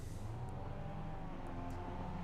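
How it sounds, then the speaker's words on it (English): Mazda MX5 race cars rev their engines together at the race start at Barcelona, a steady, fairly faint mass of droning engine tones holding without letup. "the revs are rising then here at Barcelona, and we get ready to get underway for the first time tonight"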